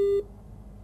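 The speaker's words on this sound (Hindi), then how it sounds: "उन्होंने फोन काट दिया" A telephone busy tone after a dropped call: a single clear, steady electronic beep lasting a fraction of a second, then near silence with faint background hum.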